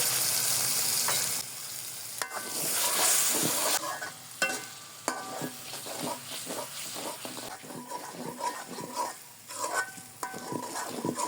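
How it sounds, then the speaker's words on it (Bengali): Loitta fish curry cooked down with added potato, frying and sizzling in a pan with irregular scraping stirs and clanks of a spatula against metal, close and fairly loud, without speech. "আলু দেওয়ার পর আরও কিছুক্ষণ ভালো করে কষিয়ে নিব"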